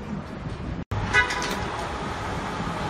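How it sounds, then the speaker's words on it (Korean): A short car horn toot, likely from a taxi, sounds once on a busy New York street over a steady wash of traffic noise. "택시도 보이고 빵빵거리고,"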